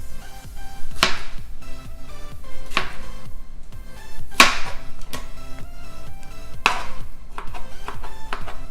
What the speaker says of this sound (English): I'm going to finely chop this tomato